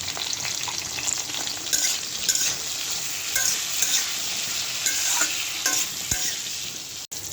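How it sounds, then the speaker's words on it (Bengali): Pointed gourd (potol) pieces frying in hot oil with salt and turmeric, a steady bright sizzle broken by short bursts of stirring and clinks from the spatula, close and continuous. "পটলগুলো ভেজে নেব।"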